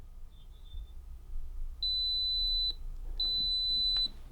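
A Delonghi Magnifica Start coffee machine, just factory reset, gives two long steady high-pitched beeps, each lasting close to a second, after a brief fainter chirp, clear and close in a quiet room.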